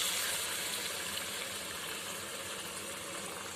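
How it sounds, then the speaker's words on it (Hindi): Water poured from a mixer jar into a simmering matar paneer curry in a home kitchen, a steady soft gushing splash lasting several seconds, fairly quiet and with no talking. "और हम डालेंगे पानी"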